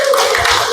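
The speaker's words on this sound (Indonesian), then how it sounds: "Tepuk tangan loh." A church congregation at a rural parish station gathering claps along, a brief burst of hand claps lasting under a second, close and fairly loud.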